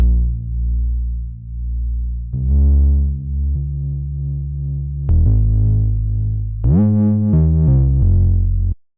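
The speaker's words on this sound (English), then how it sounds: "Okay, distortion's too much." A heavy, gritty bass synth in Ableton plays an old-school jungle drum and bass sequence of sustained low notes, each thick with harmonic distortion, loud and alone before cutting off abruptly.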